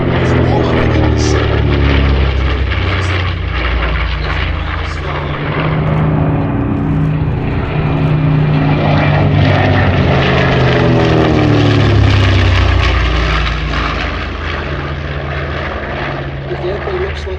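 A World War II propeller aircraft from the Flying Bulls display at Sywell Airshow 2024 drones loudly overhead, its engine note rising and swelling as it passes, with a commentator talking over it.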